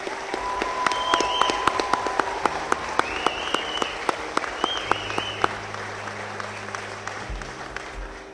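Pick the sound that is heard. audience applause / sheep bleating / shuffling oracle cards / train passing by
audience applause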